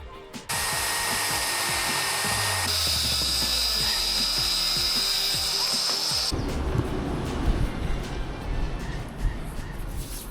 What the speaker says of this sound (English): Are you going to chop off that end piece for us as well, so we get an idea of the exact length?